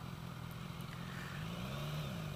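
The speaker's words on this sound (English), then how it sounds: "You hear the intake, you hear the engine" 2016 BMW S1000XR motorcycle with an aftermarket pipe running smoothly and fairly quietly, a steady engine hum with intake whoosh and slight rising pitch, heard from the rider's position without talk.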